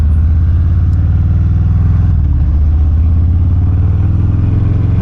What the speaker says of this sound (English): Oh yeah, I can feel that 114-inch motor.